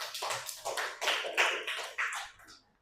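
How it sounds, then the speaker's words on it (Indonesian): Classroom applause for group 3 after a card game, a steady patter of many hands clapping at once, close and lively, fading out near the end. "Tepuk tangan buat kalian semua"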